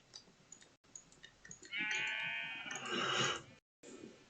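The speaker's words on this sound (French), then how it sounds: "je fais un petit nourrissage de moutons" Sheep bleating while being fed in the Minecraft video game, a sustained bleat and then a second, fairly faint, with soft clicks and small game noises around them.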